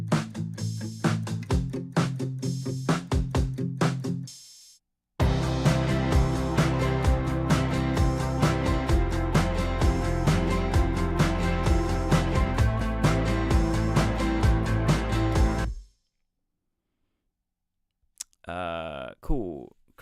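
Dense pop beat mix with acoustic guitars spread to full stereo, drums and bass driving underneath, loud and continuous after a brief pause, then cutting off near the end.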